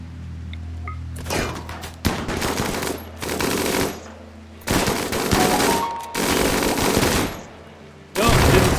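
Automatic gunfire in the colony-sim video game RimWorld, loud close bursts of rapid shots in several separate volleys with brief lulls between them.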